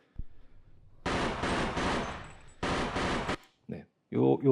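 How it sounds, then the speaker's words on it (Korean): Burst-fire gunshots from a machine gun in Counter-Strike Online ring out in three separated volleys of rapid loud shots, and brief short bursts follow at the end. "지금은 점사로 한 번씩 끊어 쏘고 있는 겁니다"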